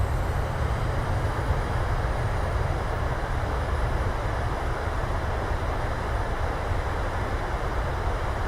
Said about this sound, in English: Reversers, nose down gently into the wind.